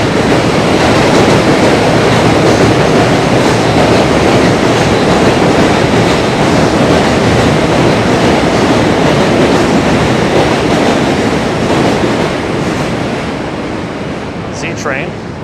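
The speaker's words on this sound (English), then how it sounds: "Train." A train passes close by on the rails during a New York City commute from Brooklyn into Manhattan. It makes a loud, continuous roaring rumble that tapers off slightly at the end.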